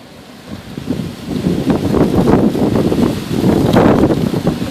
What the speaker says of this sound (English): It's not raining, but it's super, super windy.